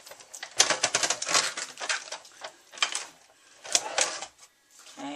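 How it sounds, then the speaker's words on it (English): Paper is fed through a Big Shot die-cutting machine as it is cranked, producing a run of close, clattering mechanical clicks and ratcheting bursts with brief pauses. "And then we're going to cut that through the Big Shot."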